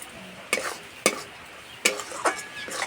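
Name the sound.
green tomato sauce sizzling and being stirred in a pan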